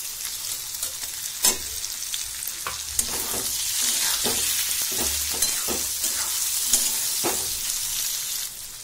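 Okra, potatoes and onion frying in a pan, a loud steady sizzle under repeated rhythmic scrapes and clinks of a spoon stirring against the metal.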